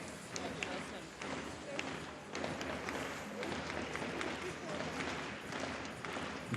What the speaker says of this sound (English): Very passionate crowd.